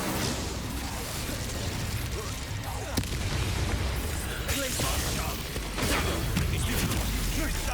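The Incendio fire spell is cast in Hogwarts Legacy on PS5, producing dense, booming bursts and crackling blasts over a continuous bed of loud combat noise.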